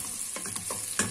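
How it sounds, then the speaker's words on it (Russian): Chopped onion fries in very hot oil in a thick-bottomed pot, a constant close crackling sizzle with soft stirring scrapes and a sharper spatter near the end, no talking. "очень быстро у нас жарится лук, потому что раскаленное было масло"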